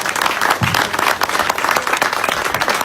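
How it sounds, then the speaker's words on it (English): Steady applause from an audience at a MotoGP press conference introducing a Malaysian KTM rider, a continuous dense patter of many hands clapping for about three seconds. "Can you please give them a round of applause"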